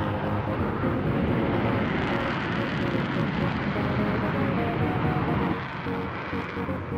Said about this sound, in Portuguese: Aí vocês estão vendo a demonstração do caça.